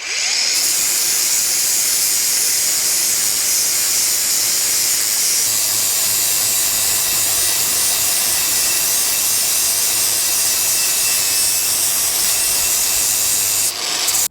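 A power grinder works on a race car part in a long, loud, continuous hissing grind with a steady high whine, running almost unbroken for the whole stretch.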